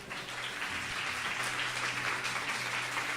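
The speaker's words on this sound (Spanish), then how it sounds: "Dale un fuerte aplauso al Señor." Congregation applauding during a Spanish-language church service on spiritual warfare: a dense, steady wash of many hands clapping that holds evenly for about three seconds, fairly loud, with no clear voice over it.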